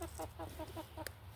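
Chickens cluck in a backyard vegetable garden, giving a short run of about six soft, rhythmic clucks, each close but fairly quiet over a steady low background hum.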